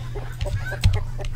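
Chickens in the video game Terraria cluck in a few short, close bursts over a steady low game-music drone, with one louder squawk near the middle.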